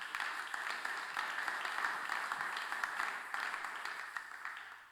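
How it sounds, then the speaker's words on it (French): A church congregation claps to acclaim the Lord. The applause is dense, steady and continuous, sounding fairly close and full throughout. "Est-ce qu'on peut acclamer le Seigneur?"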